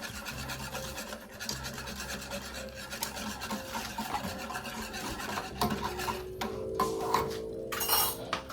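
Rice being mixed for coffee gel: a continuous rasping, scraping stir of a utensil through the grains against a bowl, close and fairly loud, with occasional light clinks and no talking.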